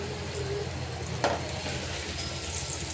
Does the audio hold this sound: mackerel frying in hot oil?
yes